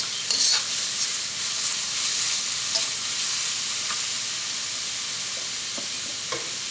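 Onions sautéing and being stirred in a pan while making Kerala mutton curry, with a steady sizzle of frying and occasional scraping stir strokes, close and continuous, no voices.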